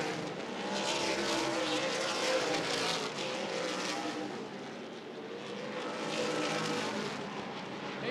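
Race cars in the 2015 ARCA/CRA Super Series 125 at Anderson Speedway roar past in a loud, continuous pack, engines swelling and fading as they circle the track.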